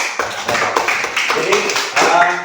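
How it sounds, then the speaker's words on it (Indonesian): Schoolchildren in an Indonesian classroom clap for a classmate who explained something, a lively patter of uneven hand claps close by, with voices mixed in over the clapping. "Kita tepuk tangan juga buat dia juga ya."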